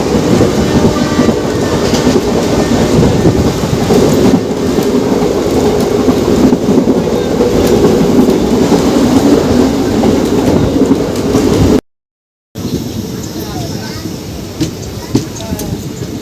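An Indian express train, the 58029 on the Kolkata to Digha line, running along the rails at speed, with a loud continuous rumble and rhythmic wheel clatter heard from inside the coach, a brief dropout, then quieter rolling.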